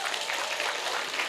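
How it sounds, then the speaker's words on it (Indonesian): Audience applause at a religious talk given by a preacher, a dense, steady wash of clapping lasting just over a second at moderate loudness. "tepuk tangan untuk Tuban."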